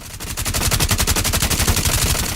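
Rapid automatic rifle fire from Sledge in Rainbow Six Siege, a single sustained burst of close, evenly spaced shots held down through the magazine.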